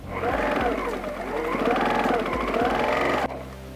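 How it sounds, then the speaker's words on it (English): A sewing machine stitches a half-inch seam on a fabric face mask with ties, running steadily and close in a continuous buzzing hum with slight speed swells, no talking. "I'm going to immediately go to the machine, and I'm going to use about a 1/2 inch seam and stitch that down."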